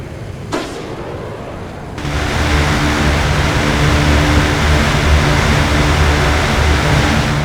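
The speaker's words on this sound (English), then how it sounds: "Sound of that gun always gives me chills." Heavy gunfire from a close air support plane's cannon in the war game Broken Arrow: a sharp crack, then a loud, sustained roaring burst that rumbles on steadily to the end.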